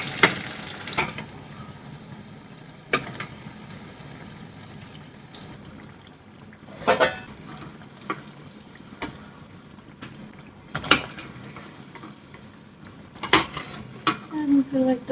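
Pakoras being flipped in frying oil, with clanking utensils against a pan, scraping stir sounds and a steady low sizzle, sharp metallic knocks recurring every couple of seconds.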